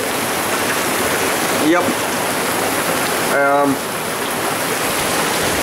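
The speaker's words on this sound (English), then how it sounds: "this rain came out of nowhere" Heavy rain pours down steadily, a dense, loud hiss of water that covers the whole span, while someone speaks briefly over it.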